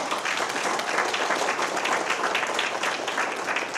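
A crowd applauds steadily at an election-night fundraising gathering, a close, dense patter of many hands clapping without pause for a few seconds.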